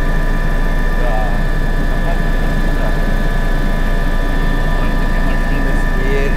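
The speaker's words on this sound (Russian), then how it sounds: "Это вертолет." A Bo 105 helicopter engine drones loudly and steadily from inside the cabin in flight, with a constant turbine whine and rotor rumble throughout.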